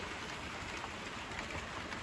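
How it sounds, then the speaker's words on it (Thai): Heavy rain falls steadily in a dense, even hiss of broadband noise with no breaks, close and fairly loud, and no voices are heard. "ฝนตกอย่างหนักแบบนี้นี่ สุดยอดเลยนะเอฟซีนะ"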